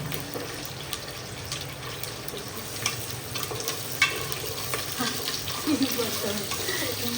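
A whole handful of garlic frying in a pan, a dense crackling sizzle with stirring scrapes and occasional clinks, steady and close throughout.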